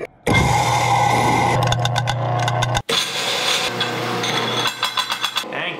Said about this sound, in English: I pour my 30 grams of coffee. Whatever, close enough. And then, what you wanna do is throw it in your grinder